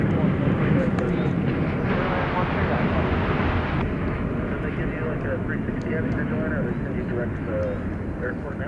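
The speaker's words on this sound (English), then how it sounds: "This is a MAX 8." A Boeing 737 MAX 8 airliner arrives at night at DFW Airport, its engines producing a broad, continuous roar that shifts partway through, with radio chatter and voices layered over it.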